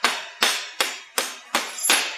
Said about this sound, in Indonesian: kalian cukup palu aja pada bagian ujungnya seperti ini